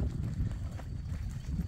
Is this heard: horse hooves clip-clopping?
yes